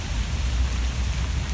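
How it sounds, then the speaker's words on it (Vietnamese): Rain falling on a London street: a soft, steady hiss of drops with a low rumbling undertone, even and continuous, no voices. "Mỗi tội bây giờ trời đang mưa"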